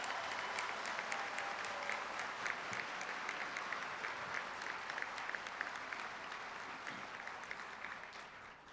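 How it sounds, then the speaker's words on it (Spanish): A large audience at a Banca Solidaria event with President Danilo Medina applauds steadily, a dense, even wash of clapping that holds for several seconds and then fades slightly, heard from some distance. "Un aplauso, por favor, a todos ellos."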